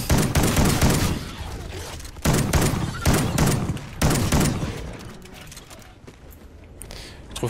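Shotgun fire in Call of Duty: Ghosts Extinction on Xbox 360, several loud booming blasts spaced about a second apart, each with a short tail, over busy game noise, fading toward the end.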